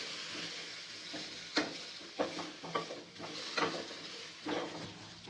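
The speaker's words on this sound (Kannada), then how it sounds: "ವೈಟ್ ಕಲರ್ ಹಸಿಮೆಣ್ಸಿನ್ಕಾಯಿ ಇವೆರಡು ಹುರಿಯಾಕತ್ತೀನಿ" White green chillies fry in a pan at home, a soft sizzle under repeated scraping and stirring clicks of a utensil against the pan.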